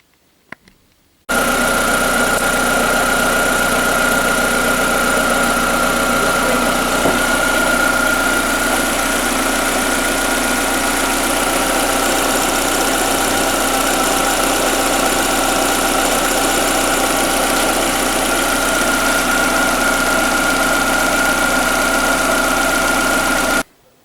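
A repaired Skoda Fabia 1.4 engine, previously knocking from its pistons, starts and idles steadily with a loud, even rumble and a fine high whine, close by for over twenty seconds before cutting off.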